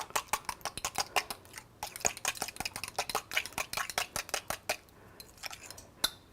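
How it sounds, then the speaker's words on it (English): A fork beats a mixture in a bowl with quick, close taps and scrapes in a steady rhythm, pausing briefly now and then, with no talking. "I'm going to blend this well with the fork"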